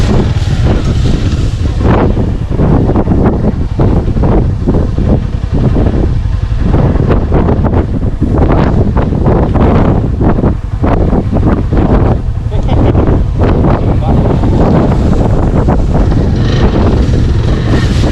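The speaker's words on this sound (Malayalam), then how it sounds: "നല്ല രീതിക്ക് ഇപ്പോൾ കാറ്റും ആയിട്ടുണ്ട് കേട്ടോ" Strong wind blows across an offroad hilltop during an extreme offroading ride on R15 V3 and RTR 200 motorcycles, a loud, continuous gusting rumble buffeting the microphone while a voice talks over it.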